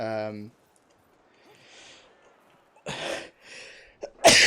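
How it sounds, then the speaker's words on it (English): A person sneezes at close range: a short voiced sound, a quiet pause with soft breaths, then abrupt explosive bursts, the last one loudest. "I'm just sneezing left, right, and center right now"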